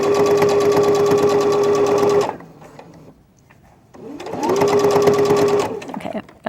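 A sewing machine runs in two steady bursts of understitching close to a seam on a dress, using the presser foot edge as a guide, with a short quiet pause between the runs.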